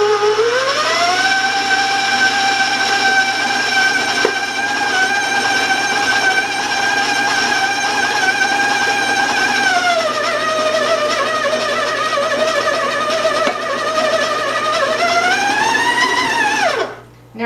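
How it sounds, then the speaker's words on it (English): An electric mixer beating sugar cookie dough gives a loud, steady motor whine that dips in pitch as it labours, rises as the speed goes up, then cuts off abruptly. "Now you can almost hear the motor lagging a little bit, so that's telling me that I need to go higher in speed."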